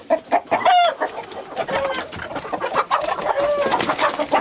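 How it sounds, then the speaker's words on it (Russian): A rooster in a wooded area is being caught: sharp squawks and agitated clucking come in quick bursts, close and loud, with faint cooing-like calls and rustling between them. "Разучился я ловить петухов."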